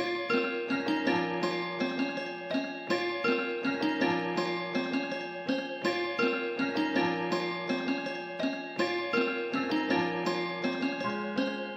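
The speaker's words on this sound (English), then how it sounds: "And for the example, I used this Shanghai Baby piano low and wide," Ethnoworld 6 Shanghai Baby piano patch, low and wide, from a Kontakt library playing a repeating melodic pattern with sustained chords, steady and full throughout, no voices.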